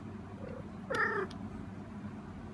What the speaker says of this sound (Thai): เฮ้ยแมวมันฮีทจริงๆนะเนี่ย